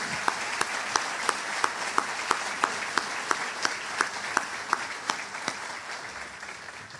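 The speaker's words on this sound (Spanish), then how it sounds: "a todos los funcionarios de la ANDE con un gran aplauso" An audience gives steady, dense applause for utility workers at a substation inauguration ceremony. The clapping is loud, continuous and unbroken, with some sharp individual claps standing out before it slowly tapers off.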